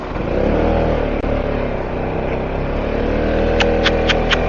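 A 50cc motorbike engine droning and revving in Antalya traffic, a loud, sustained buzzing engine note close by with a few sharp short horn-like bursts near the end.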